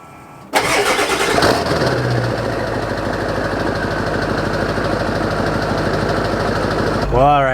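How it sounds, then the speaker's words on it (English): A pickup truck engine cranks briefly and catches, then settles into a steady, close rumbling idle as it warms up, with a voice starting to talk at the very end. "we're in the truck letting it warm up a little bit"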